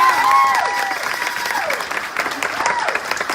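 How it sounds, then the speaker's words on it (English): A crowd at a charity sweepstakes car giveaway gives loud, sustained applause mixed with some cheering, with a voice talking over the clapping. "Please, let's give them another big round of applause."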